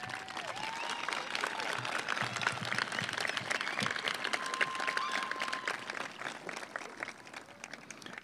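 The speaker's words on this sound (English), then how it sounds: "Let's give a nice round of applause" Round of applause from the audience at a 2018 high school graduation ceremony, steady mid-distance clapping that holds throughout and tapers slightly toward the end, with a few faint voices in the crowd.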